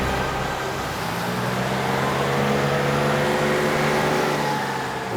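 A car driving on a village road, its engine a steady loud drone with road rumble throughout, with no voices.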